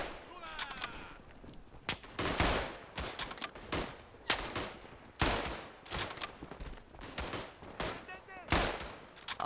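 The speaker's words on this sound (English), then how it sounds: "firing until the barrels glow red" Rifle and machine-gun fire in the World War I shooter Tannenberg, with repeated sharp volleys and bursts at irregular intervals, close and loud, echoing between shots.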